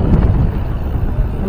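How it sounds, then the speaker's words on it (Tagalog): Strong wind buffets the microphone in a loud, continuous low roar, gusting unevenly throughout with no clear voices. "Lakas ng hangin."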